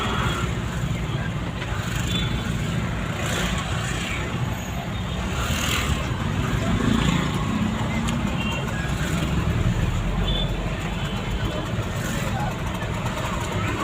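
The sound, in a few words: road traffic in Morbi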